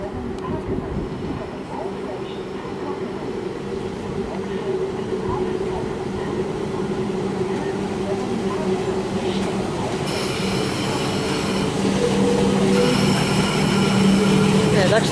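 A refurbished Comeng electric suburban train, lead car 304, pulls away from Clayton station in Melbourne on the Pakenham line. Its steady motor and rail rumble builds slowly over fifteen seconds, with a faint squeal creeping in near the end.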